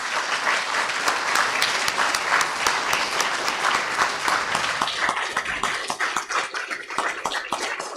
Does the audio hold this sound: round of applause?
yes